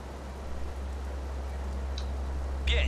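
Rain in the rally racing game Colin McRae Rally 04 on a Japanese stage: a steady hiss of falling rain over a low constant engine drone, with a few faint ticks and a brief louder patch at the end.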